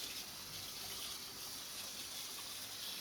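Tap water runs steadily over a tie-dyed shirt being rinsed of loose dye in a sink, a continuous broadband gush holding at an even, fairly close level throughout.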